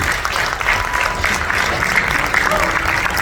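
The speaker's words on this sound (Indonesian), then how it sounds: "Tepuk tangan dulu." An audience at an event claps steadily for a few seconds, a full, loud spatter of applause with faint crowd murmur beneath.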